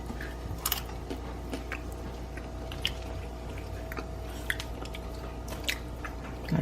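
Close, quiet chewing of roasted pumpkin seeds with intermittent crisp crunches at irregular intervals over soft background hum.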